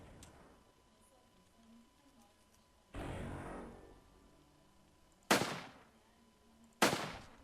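Gunshots in a Western-themed video game, three sharp, fairly loud reports spaced a second or two apart, each with a short decaying tail over a quiet background.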